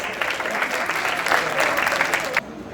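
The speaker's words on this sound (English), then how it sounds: "A big round of applause for our incredible performers." Audience applause for performers at an International Women's Day event, a dense, steady wash of many hands clapping for under three seconds before cutting off abruptly.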